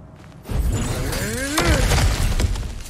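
Cracked ground giving way in God of War Ragnarök, a heavy shattering crash with rumbling debris that swells and then settles, loud and close, with no voices.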